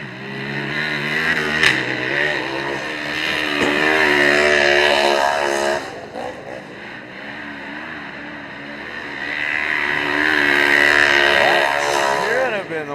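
SXS side-by-side race cars roar around a rough, rutted dirt track, their engines revving and surging loudly in waves that swell, dip around the middle, then swell again, with a commentator talking over the noise.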